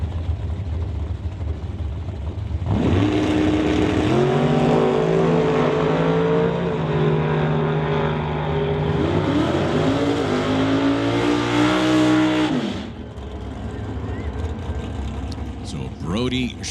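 Two drag race cars, a gray 1967 Chevy and a 1963 Corvette, launch and roar down the strip with loud rising engine revs and gear changes, an announcer talking over them.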